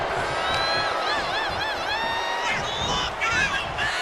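A wrestling arena crowd in WWE 2K25 during a last man standing match roars continuously, loud and dense with whoops and shouts throughout.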